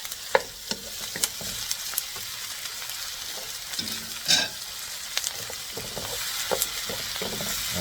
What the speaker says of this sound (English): We're gonna cook the tomatoes